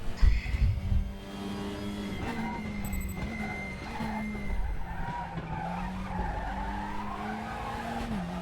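Tyres lock up and skid in the RaceRoom racing game, a sustained squealing tone that wavers in pitch over a steady engine drone, loud and continuous for several seconds.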